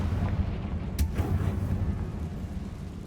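A Confringo blasting spell explodes in the Hogwarts Legacy video game: one sharp, loud blast bursts out about a second in, then fades into a steady low rumble of game ambience.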